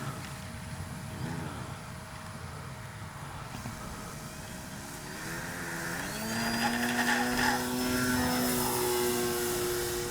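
A Great Planes Ryan STA radio-controlled model airplane's buzzing propeller engine, rising in pitch and growing louder as it revs up and climbs away.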